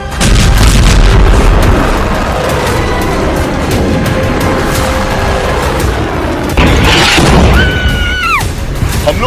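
Missile strikes hit Beirut with loud, booming explosions over a continuous roar of rumble and debris. Near the end a sharp crack is followed by a falling whistle-like tone.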